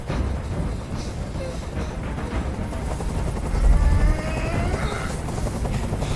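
A helicopter in the Detroit: Become Human video game drones overhead as a steady low rotor rumble, swelling slightly midway, with music-like tones and game sounds layered over it.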